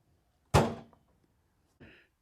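A drawer on a US General 56-inch Series 2 tool chest shuts with a sharp, close metallic thunk, followed about a second later by a softer second knock, all in an otherwise quiet room.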